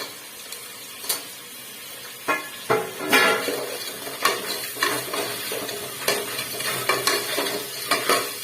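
Clams fry in a pan for clam sambar, a soft continuous sizzle broken by irregular scraping and knocking of a spoon stirring against the pan, close and moderately loud.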